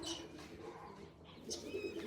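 Pigeons coo softly in a few low, rolling calls over a steady background hum, with no talk.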